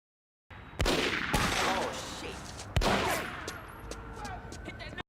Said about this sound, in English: He literally is shooting around the corner and not even looking.